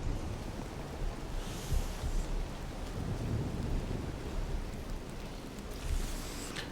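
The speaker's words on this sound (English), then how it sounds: "so the thunderstorm's starting" A thunderstorm in the game Mind Over Magic, with steady rain hissing throughout and a couple of low thunder rumbles rolling in and out at moderate volume, no voices.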